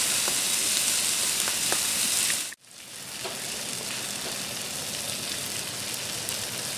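Steady loud sizzling of sausage and peppers frying on a Blackstone griddle, a dense hiss that cuts off briefly and then resumes a little quieter.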